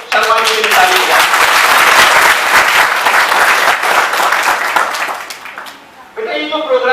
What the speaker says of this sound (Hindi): एक तो खुद के लिए ताली बजाएं